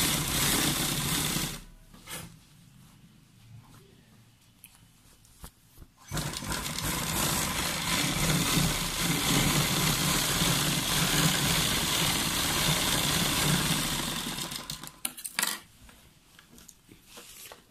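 An electric sewing machine stitches a cuff sleeve seam in fast, steady bursts, running loud and close for several seconds, pausing, then resuming for a long continuous run before stopping.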